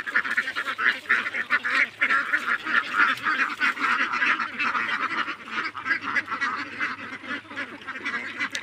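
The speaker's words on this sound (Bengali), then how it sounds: "দেখুন, সব হাঁস আস্তে আস্তে হাঁটিয়ে চলে আসতেছে।" A large flock of around 500 to 600 ducks walks home, keeping up a dense, continuous chorus of overlapping quacks and honks close by.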